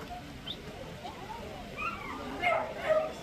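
At an outdoor dog show in Bryant Park, Kodaikanal, a dog gives faint high whines and yips amid crowd noise and the background voices of people talking, rising to a couple of louder yelps toward the end.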